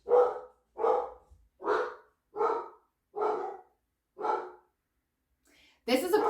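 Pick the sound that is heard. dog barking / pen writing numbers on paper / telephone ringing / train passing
dog barking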